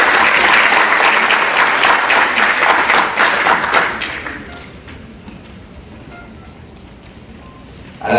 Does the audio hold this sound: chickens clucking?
no